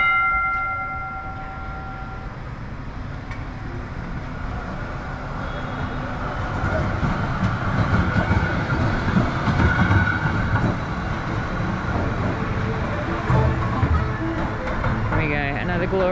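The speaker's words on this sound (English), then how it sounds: "Glorious tram" A Melbourne tram rolls along Glenferrie Road in Malvern, a steady rumble of wheels and motor rising as it passes close by amid street traffic, with voices nearby.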